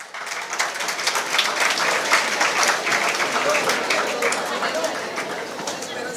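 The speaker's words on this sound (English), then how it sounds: "Let's have a round of applause for them." An audience at a career seminar claps in a steady, sustained round of applause lasting several seconds, with a faint voice underneath.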